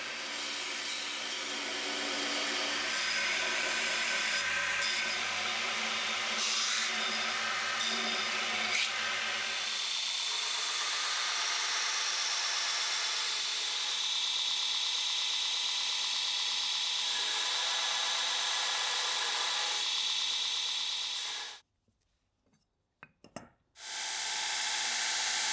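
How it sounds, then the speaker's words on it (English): A belt grinder fitted with a small wheel attachment runs loud and continuous while cleaning up a metal bracket, its abrasive whine holding steady before cutting out near the end. "We've got the small wheel attachment set up on the belt grinder and cleaning up the bracket."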